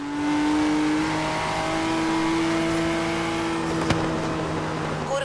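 Steady, loud engine drone from a 2017 Ford GT in the racing game Forza Horizon 3, with the pitch easing slightly as it goes and a sharp click near the end, no voices.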